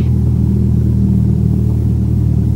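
A light airplane's piston engine holds steady at about 1,000 RPM during a pre-flight run-up, making a loud, even, close-up drone with a low throb and no talking.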